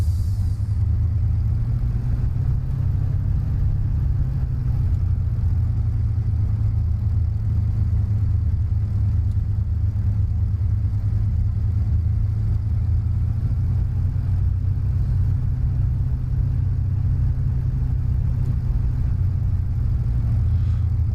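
A Spitfire Mk IX taxiing in Microsoft Flight Simulator: a steady, loud, low piston-engine drone with an even rumble that holds constant throughout, with no voices.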